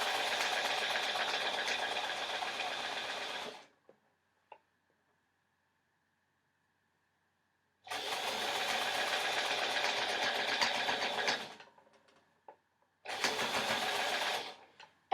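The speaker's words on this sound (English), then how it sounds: "I find if you do pull the elastic as you're sewing, it does make it easier." Sewing machine stitching elastic onto a sporty dress, running in steady bursts: about four seconds of continuous whirring, a near-silent pause, then two more runs, close and clear with no talk.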